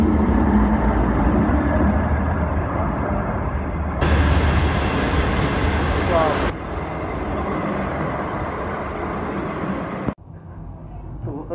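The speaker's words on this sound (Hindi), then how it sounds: "तो अभी ये ट्रेन आ रही है" A train pulls into a station in Baodi, Tianjin, China, a sustained rolling rumble with a brighter surge midway that cuts off sharply near the end, heard close amid platform background noise.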